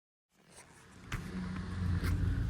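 Honda City rolling on newly fitted low-noise tyres over alloy wheels: a soft, steady road rumble and hum that swells from silence, with a couple of faint clicks, quiet and without speech.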